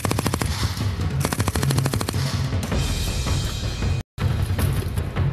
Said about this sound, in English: Only the machine gunner is left to complete the mission.